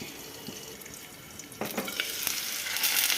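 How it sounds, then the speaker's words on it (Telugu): Onions and curry leaves fry and sizzle in a pan for a Telugu okra dish, a steady broadband hiss that swells louder halfway through as the pan is stirred, with no voices. "ఒక్క 2 నిమిషాలు ఫ్రై కావాలి."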